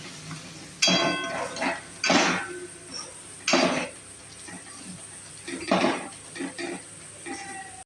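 A utensil stirs and scrapes ground turmeric, red chilli, cumin and coriander powders in a pan for matar paneer, giving several separate scraping bursts with quieter clinks between them.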